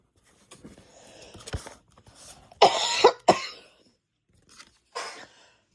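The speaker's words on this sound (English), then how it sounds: "I had a coughing fit" A few harsh coughs burst out close up, a cluster of three then one more after a pause, with soft rustling in between.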